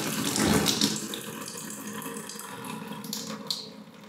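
A newly installed kitchen tap that keeps trickling after being closed gives a continuous close-up splashing stream of running water into the sink, steady throughout with a few small splashes and no talk.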